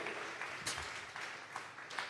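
A church congregation at a Sunday service claps as an offering, steady mass applause with a few sharper peaks, distant and faint, with no one speaking over it.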